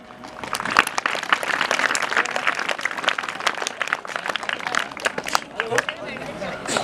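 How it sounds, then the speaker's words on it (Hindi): Applause from an audience at a school Republic Day function, loud and dense clapping mixed with crowd noise and voices throughout. "जोरदार तालियों से अभिनंदन"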